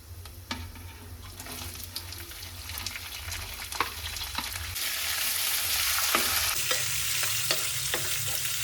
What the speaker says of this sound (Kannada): ಈ ರೀತಿ ಚಟಪಟ ಅನ್ನುವಾಗ ನಾನು ಇದರೊಳಗಡೆ ಮೆಣಸಿನಕಾಯಿ ಹಾಗೂ ಈರುಳ್ಳಿನ ಹಾಕ್ಕೊಳ್ತೀನಿ.